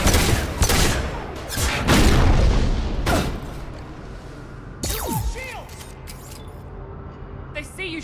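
Loud, dense fusillade of gunfire and booming impacts in the video game Mass Effect 2, with overlapping shots during the first half before thinning into sparser whooshes and pops; voices are heard amid the battle.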